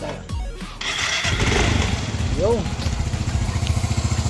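A motorcycle engine cranks and catches after a brief starter whir, then settles into a steady, close, rhythmic idle putter, with a short spoken word near the start.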